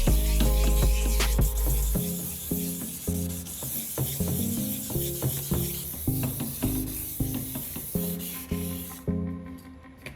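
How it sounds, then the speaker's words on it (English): Wet sandpaper rubs back and forth over a yellowed plastic car headlight in quick, rhythmic strokes, each pass a close, gritty scrubbing sound repeated steadily. "Throughout the sanding process, I keep the surface wet to reduce friction and prevent overheating the plastic."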